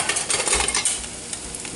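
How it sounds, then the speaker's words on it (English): A spatula stirring breakfast food in a pan with olive oil, giving close scraping and shuffling strokes over a soft sizzle, with no voices. "just kind of start stirring it up."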